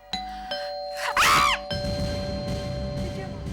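A loud two-tone house doorbell chime rings once at midnight, close by, followed by a low room hum.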